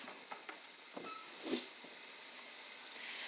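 Carrots sautéing in oil in a skillet heating on medium-high, a quiet steady hiss and sizzle with a few soft crackles and pops.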